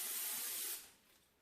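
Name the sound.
cooking oil pan spray being sprayed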